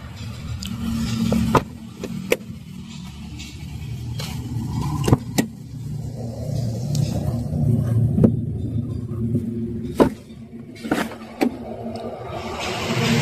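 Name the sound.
secondhand car engine running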